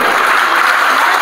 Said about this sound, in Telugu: ఒక్కసారి సూపర్ క్లాప్స్